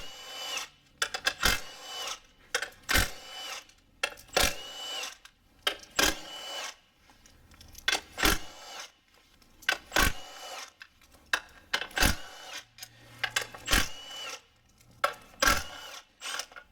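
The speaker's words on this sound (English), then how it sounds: "You guys will see all these 10mm bolts, so let's go ahead and remove them." Ratcheting and wrenching on 10mm bolts holding the intake cover of an Acura TL 3.2L J32 V6 engine, in short repeated bursts of clicking and scraping tool work with brief pauses between.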